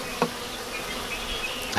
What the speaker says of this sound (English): There's some bees here.